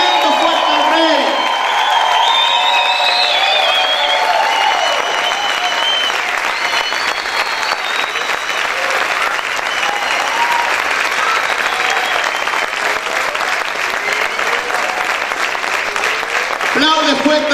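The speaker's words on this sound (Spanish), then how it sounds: "Aplaude fuerte al Señor." Church service audience applauding loudly, a long sustained wave of vigorous clapping with cheers, whoops and voices mixed in, close and full throughout.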